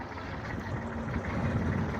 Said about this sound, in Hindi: शोर के साथ चला रहे हैं ट्रैक्टर।